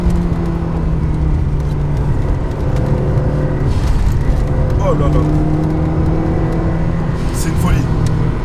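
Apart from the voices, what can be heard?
Fiat 500 Abarth turbo engine revving while driving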